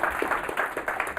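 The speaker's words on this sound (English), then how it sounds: "Everyone give Ezekiel another round of applause." Brief, faint applause from an audience at a talk, with rhythmic hand claps pulsing for about a second.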